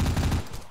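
Enemy gunfire in the video game Joe's Wrath comes as a rapid, loud burst of automatic shots that cuts off abruptly, leaving a brief quieter tail.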